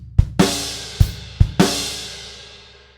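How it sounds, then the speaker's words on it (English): A rock drum groove, with kick and snare hits and loud crash cymbals replacing the hi-hat on beats 2 and 4, the last crash left ringing and decaying. "we're just crashing instead of playing hi-hat on beats 2 and 4 in bar 17"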